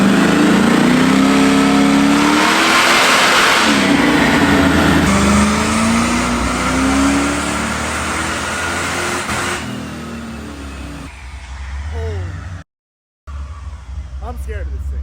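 Supercharged LS3 V8 in a Chevrolet Colorado pickup revving hard and loud, with rising and falling pulls that build to a high-pitched whine, then cut out abruptly before the engine barks back in, under occasional talk.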